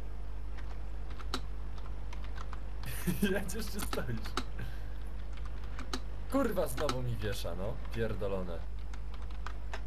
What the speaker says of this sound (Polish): Klawiatura się jeszcze zacięła.